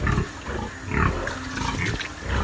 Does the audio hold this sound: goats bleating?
yes